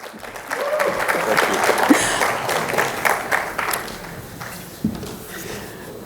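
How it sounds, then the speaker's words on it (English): Applause from an audience at an energy conference in a hall rises and thins over several seconds, with individual claps and some talking mixed in. "On peut l'applaudir hein, pour l'encourager."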